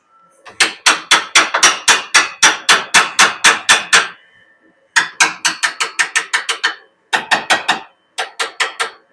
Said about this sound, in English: Hammer that in a bit with a hammer.